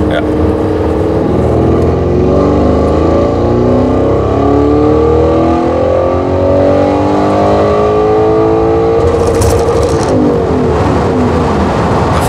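A tuned Audi RS6 4G pulls hard through its DSG gears, its loud engine rising in pitch and then dropping with each quick upshift, heard from inside the car with occasional talk over the roar.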